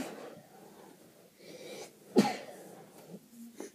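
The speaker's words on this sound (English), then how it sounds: "I feel like I'm going to sneeze." A single sharp sneeze bursts out once partway through, amid quiet breathing and faint room noise.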